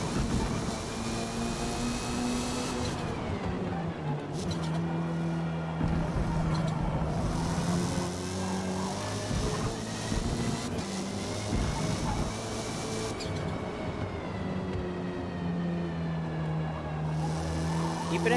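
Race cars in a racing video game, about nine on track in an early lap, with steady loud engine drone and shifting pitch as revs rise and fall, continuous and close throughout.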